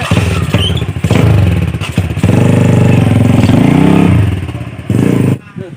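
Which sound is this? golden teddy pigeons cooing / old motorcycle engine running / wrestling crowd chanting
old motorcycle engine running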